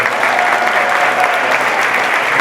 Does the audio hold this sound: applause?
yes